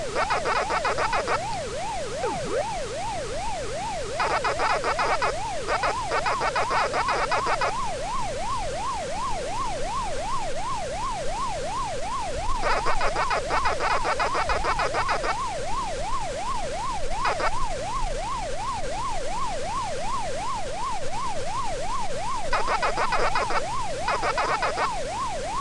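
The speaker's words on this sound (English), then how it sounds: "Pac-Man moving gives you one sound, eating the food is another." Pac-Man style maze game sounds as the character moves: a continuous warbling electronic siren tone rising and falling steadily, broken by repeated bursts of brighter chirping blips, with no talking.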